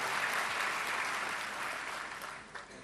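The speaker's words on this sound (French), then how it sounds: "Je voudrais vraiment qu'on l'applaudisse fortement." An audience claps steadily at a business forum event in Côte d'Ivoire, dense sustained applause that stays loud, then thins slightly toward the end.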